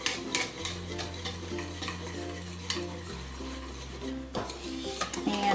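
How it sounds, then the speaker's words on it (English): Peach cobbler batter with milk is stirred by hand in a bowl, giving a soft, continuous scraping and swishing close by under a steady low hum. "So we're going to go ahead and just get this all mixed up together."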